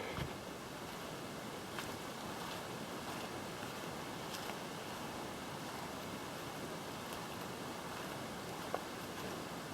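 A faint, steady wash of falling water from Turtle Falls in the Blue Mountains, a continuous broadband rush heard from a distance with no talking.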